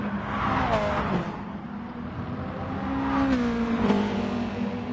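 Race cars in Gran Turismo Sport battling down the front stretch, a steady engine drone with gear-shift pitch sweeps as a car slipstreams close behind another, continuous and fairly loud throughout.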